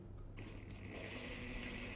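Sewing machine stitching the waistband details of a dropped-shoulder dress, a steady continuous motor hum and needle whir running close and unbroken throughout with no talking.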